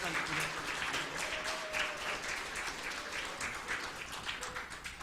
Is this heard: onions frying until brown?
no